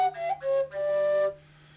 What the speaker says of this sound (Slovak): alebo hrám do dvoch otvorov a tým sa mi vlastne ozývajú tri tóny